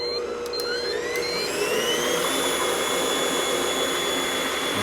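An electric mixer whips cream to make butter, giving a steady loud whirring drone whose pitch rises slightly as the motor speeds up, alone and unbroken.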